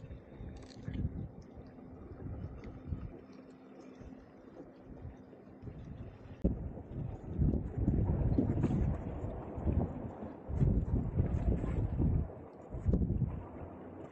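Wind gusting outdoors on seaside rocks at Napier during a fishing trip, a steady low roar and buffeting on the microphone that swells louder in the second half, with no voices.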